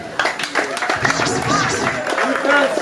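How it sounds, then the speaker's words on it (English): An audience at a comedy show claps and applauds in a loose, scattered patter, moderately loud, with voices and crowd chatter mixed throughout. "Maybe when I clap for her."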